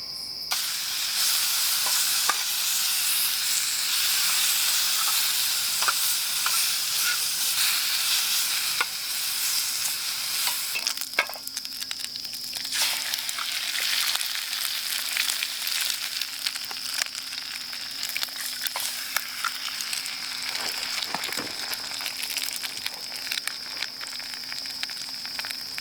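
Bacon frying in a pan outdoors in the woods, giving a steady, loud, close sizzle with a constant bright hiss throughout, occasional faint pops and a low hum in the second half.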